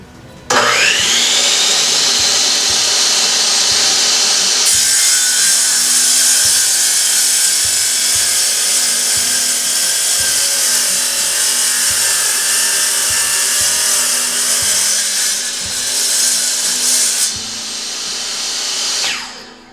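A Ridgid wet tile saw whines loudly and steadily through a 45 degree cut in tile, rising to a harsher tone partway in before spinning down at the end, with no talking.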